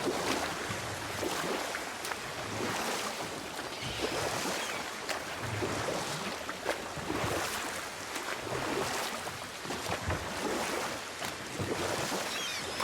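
Rowing a boat across open water in the video game God of War, with a steady soft wash of waves and wind and faint oar splashes, no voices.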